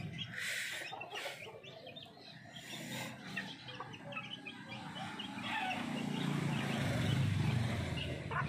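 A flock of chickens cluck and murmur at close range during feeding, with scattered short calls overlapping in a busy, continuous farmyard chatter.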